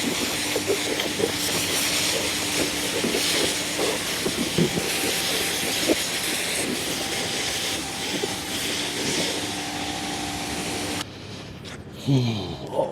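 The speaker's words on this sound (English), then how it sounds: "now let's rinse all of it" A car interior is rinsed with water, making a loud, steady hiss of spray with sputtering bursts. It cuts off abruptly near the end, followed by a few brief scraping sounds.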